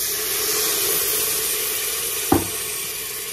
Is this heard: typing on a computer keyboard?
no